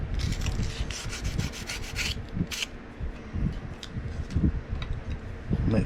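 Sandpaper rubs back and forth on the handle of a Cold Steel Laredo Bowie knife during a full-tang conversion, a close, rhythmic rasping of quick strokes with brief pauses and occasional knocks.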